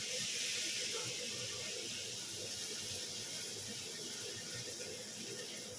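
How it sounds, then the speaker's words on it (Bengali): Ginger paste sizzles in hot oil with a steady, even hiss that holds from start to finish with no talking over it. "তো এবার দেব আদা পেস্ট।"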